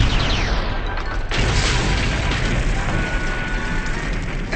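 A shrapnel grenade goes off in a Transformers G1 cartoon scene, giving a loud blast that opens into a sustained roar and rumbling crackle lasting several seconds, with no voices over it.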